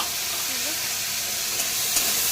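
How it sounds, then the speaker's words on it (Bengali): Okra frying in mustard oil in a kadai, a continuous close hiss and sizzle with faint stirring clinks near the end, and no talk. "ভেজে নেবো ভেজে নেবো ভেজে নিলাম এগুলো"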